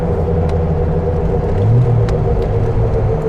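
A 1973 Triumph TR6 engine drones steadily in fourth gear with overdrive, a loud, close, even rumble from inside the moving car, with a few faint clicks over the hum.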